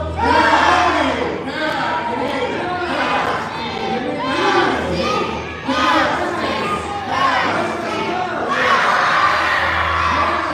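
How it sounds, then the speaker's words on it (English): Lively group of people cheering and shouting in repeated bursts, loud and close, with chanted calls rising and falling over several seconds. "Here's a cheer."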